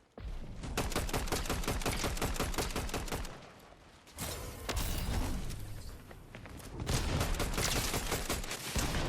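Rapid gunfire in the game Fortnite Chapter 6, dense trains of sharp shots loud and close, broken by a short lull and then renewed volleys, with pump shotgun blasts among them.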